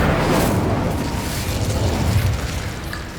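An Incendio fire spell cast in the video game Hogwarts Legacy, a loud close fiery whoosh and boom that hits at once and then rumbles and fades over a few seconds.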